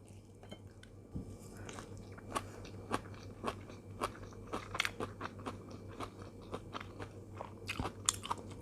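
Someone chews blanched yam bean shoots with chili dip in close, crisp bites, a steady series of soft crunches and wet chewing over a faint hum.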